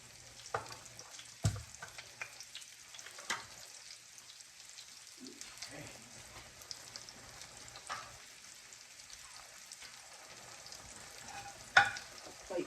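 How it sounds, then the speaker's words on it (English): A piece of bacon and a pat of butter fry in a pan, giving a faint, steady hiss with scattered soft pops and occasional utensil knocks, heard alone without speech. "I'm going to take and drop a piece of bacon and butter in there"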